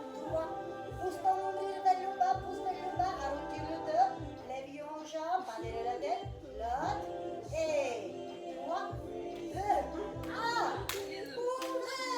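Rhythmic hand clapping during a Pilates mat class, sharp claps in repeated sets over music, with an instructor's voice talking over them.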